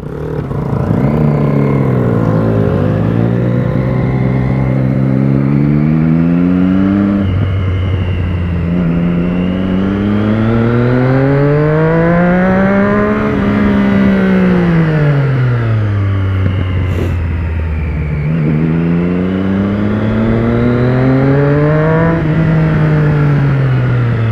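A BMW F800R motorcycle engine drones steadily close by, its pitch sweeping up and down repeatedly as the rider accelerates and shifts through gears.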